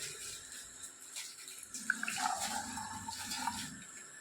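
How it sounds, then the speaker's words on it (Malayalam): Homemade cumin syrup is poured into a glass, a faint, close liquid trickle that rises after a quiet start, with no speech. "നേരത്തെ നമ്മളെ സിറപ്പ് നമ്മൾ ഇതിലേക്ക് കുറച്ച് ഒഴിച്ചു കൊടുക്കാൻ പോവാണ്."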